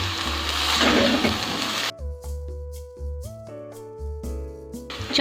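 Boiled rice stirred into jaggery syrup in a pan gives about two seconds of dense, close scraping and sizzling, then gives way to background music.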